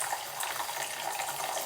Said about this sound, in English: I'm filling the bucket up with water right now.